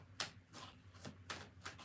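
A deck of cards is riffled in quiet, crisp bursts, with about five soft flutters in under two seconds during a tarot-style reading. No voice is heard.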